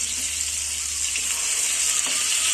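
Bangada mackerel fries in a pan, a loud, constant hissing sizzle of hot oil that stays close and unbroken from start to finish, with faint faucet-like trickling underneath.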